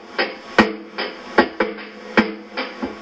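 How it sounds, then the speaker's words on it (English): A punchy drum loop sample with kick and snare hits repeating in a steady rhythm, carrying a gritty, hissy lo-fi texture, played in Cakewalk Sonar. "It's got like that low fidelity hiss."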